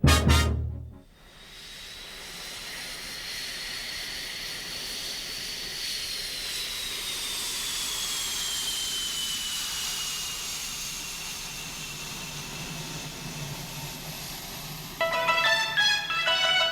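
Jet engines of strike fighter aircraft give a loud sustained roar and hiss with a slowly shifting whine, steady for most of the stretch after a brief sharp burst at the start.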